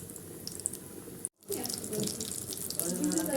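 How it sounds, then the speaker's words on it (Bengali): Egg chops coated in gram flour batter frying in hot oil on low flame, a steady close sizzle and crackle with a brief dropout partway, then renewed bubbling with faint sharp pops and no voices. "রেডি করা ডিমের চপগুলো আমি এবার বেসনের সাহায্যে গরম তেলে দিয়ে দেবো একটা একটা করে"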